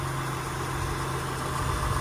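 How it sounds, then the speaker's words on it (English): A 2003 Acura CL with a six-speed manual idles steadily, a smooth, even low hum with no revving, heard close up throughout. "You hear the engine, it purrs like a kitten."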